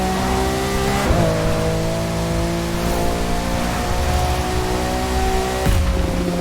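A loud, high-revving Lamborghini Aventador LP700-4 engine in The Crew 2 video game climbing through gears, with pitch drops at each shift, steady and close, no speech.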